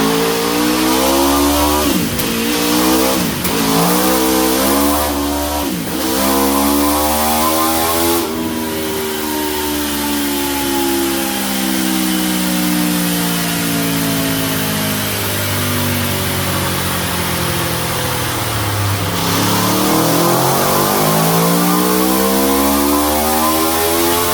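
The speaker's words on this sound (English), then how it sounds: "Cold start with the silencer out." A motorcycle engine cold-starts with its silencer removed, barking loudly through a few sputtering catches before settling into a harsh, rough idle punctuated by sharp revs that rise and fall, close up and alone.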